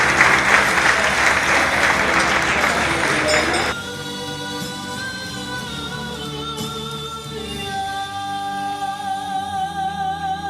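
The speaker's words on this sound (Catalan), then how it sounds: "I anem a donar un fort aplaudiment a Carme i a Sergi" Loud audience applause at the closing of a rice-cooking contest in La Valldigna bursts out for a few seconds, then cuts away to sustained musical tones.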